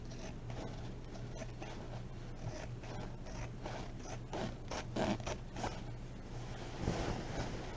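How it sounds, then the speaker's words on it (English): Scissors snipping through wedding gown fabric near appliques, a run of soft close crunchy cuts and rustles with a few louder snips toward the end, no talking. "Grab my other scissors, move that back some. Okay, now I'm going to just cut this away."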